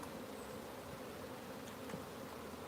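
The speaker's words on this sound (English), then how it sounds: "I'm gonna leave the camera parked here to look at these bees" Honey bees buzzing at a hive during routine maintenance: a steady, dense drone of many insects, close and continuous, with no voices.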